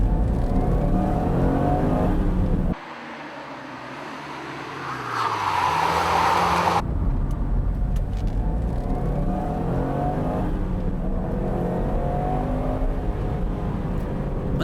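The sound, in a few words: rally car driving through corners, handbrake turn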